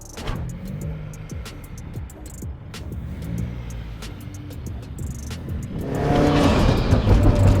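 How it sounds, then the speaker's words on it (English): Subaru WRX on new tires driving along, engine note rising steadily with brief tire chirps, growing louder and more strained toward the end as it accelerates. "driving the WRX around is super fun. It makes all the right noises"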